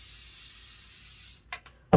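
Hair spray hisses from an aerosol can onto an updo during a hairstyling exam practice: a long steady spray for over a second, then two short bursts and the start of another.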